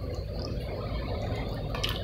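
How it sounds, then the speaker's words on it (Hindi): Water pouring into a small bottle, a steady liquid trickle and gurgle with a faint splash near the end, close and fairly quiet, no voices. "पानी तो बहुत भर रहा है, बहुत भर रहा है"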